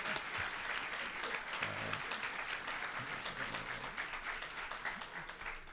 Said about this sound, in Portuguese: ouvir que a presidente de um dos poderes da República sendo aplaudida de pé e sem ouvir um grito de fora a Carmen Lúcia.